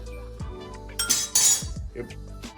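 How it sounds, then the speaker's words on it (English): Metal lid of a pressure cooker clinking and rattling against the pot as it tries to lock, several short bright clanks close up, with a voice speaking briefly around them. "Sometimes you'll hear that sound, it's just the lid trying to lock."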